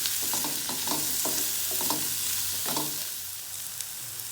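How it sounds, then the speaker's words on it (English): Capsicum sautés in a pan with a soft sizzle and bursts of spatula scraping and tossing in an irregular rhythm. It is close, then fades to a quieter hiss near the end, with no voices. "Saute it for about a minute and then we will add the sauce."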